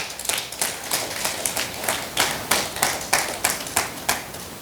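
A church congregation claps together in a steady, rhythmic beat, the sharp hand strikes coming about twice a second at moderate loudness, with no talking over them.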